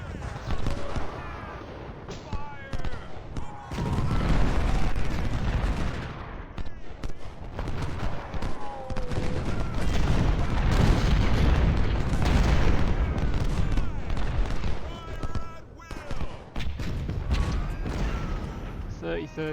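Musket volleys and artillery fire from a Civil War battle in the strategy game Ultimate General: Civil War, a dense, continuous clatter of gunfire and booms, with someone talking over it.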